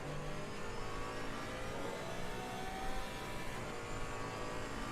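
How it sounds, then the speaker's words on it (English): A GT4 race car engine revs hard in Assetto Corsa Competizione. The roar stays dense and unbroken, loud and close, with no talking. "The sound of the engine in this reminds me of Need for Speed Most Wanted."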